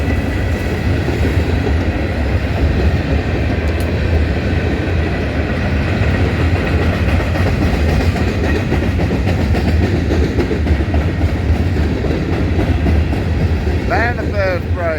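A manifest freight train rolls past steadily and loudly for the whole stretch, a continuous rumble with clattering wheels, and a brief squeal near the end.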